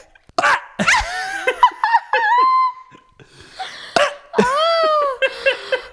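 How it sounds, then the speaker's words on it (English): A voice shouts and burps at once, a few loud croaking belches with a strained vocal tone, mixed with laughter and short breaths, close and loud. "shout and burp at the same time"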